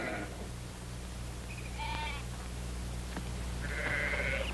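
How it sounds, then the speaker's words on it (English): Several sheep bleat in bursts while being driven off, one near the start and a louder wavering cry at the end, over a steady low hum of background noise. "help me get those sheep on the move"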